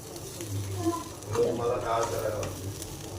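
Poha is stir-fried in a pan, a close sizzling hiss with scraping and tossing sounds from the spatula, while someone talks over it.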